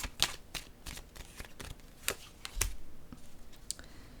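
Tarot cards are handled and laid down one after another in a run of soft, crisp shuffling and slapping taps, close and fairly quiet, with no talking.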